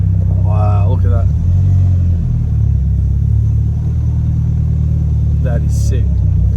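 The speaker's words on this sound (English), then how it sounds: "Freaking pink Porsche." A pink Porsche sports car gives off a steady, deep engine rumble that holds throughout. Voices break in briefly near the start and again near the end.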